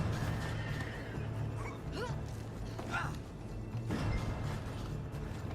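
A horse whinnies in Red Dead Redemption 2 gameplay, with short neighing calls rising over a steady low in-game background hum, moderately loud and without talk.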